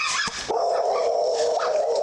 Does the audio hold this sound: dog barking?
yes